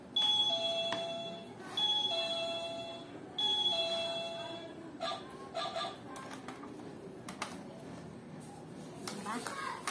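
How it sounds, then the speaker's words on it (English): A toy dollhouse doorbell plays a bright electronic ding-dong chime three times in a row, close and clear, followed by clicks and handling noises from the toy. "Tapos meron siyang dingdong din."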